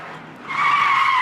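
A car slides through a handbrake turn on a driving course, its tires letting out a sharp, rising skid squeal that grows louder and holds to the end, close and alone.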